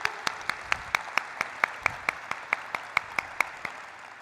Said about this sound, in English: can we have a thunderous round of applause for the Anand Rathi group?